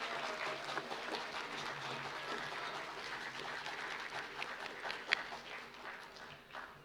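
Broad, sustained applause from an audience at a school assembly, cheering the school houses and participants, a steady dense clatter of clapping throughout with one sharp clap standing out near the end.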